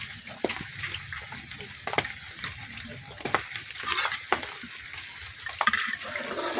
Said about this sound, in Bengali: এখন নাড়াচাড়া খুব ভালোভাবে দুধের সাথে মিশিয়ে নিতেছি।